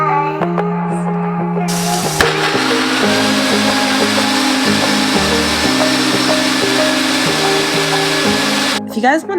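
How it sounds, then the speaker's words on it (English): A kitchen blender whirs loudly and continuously, its motor pitch stepping up and down as it churns a fruit mix of dragon fruit, then cuts off abruptly at the end. "If you guys want to know where I got that blender from"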